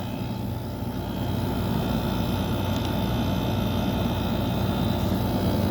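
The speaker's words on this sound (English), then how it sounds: "It always amazes me with how quiet the compressor in this thing is." A Montgomery Ward WCI 10K window air conditioner runs with its compressor and fan on, a steady low droning hum with a faint airy whoosh, continuous and even throughout with no talk.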